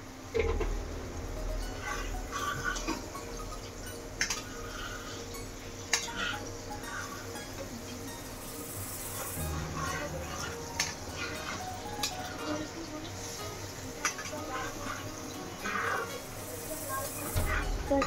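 Food gets stirred in a cooking pan, with soft scraping and clinking of a utensil against the pan over a low sizzle, while a voice talks intermittently.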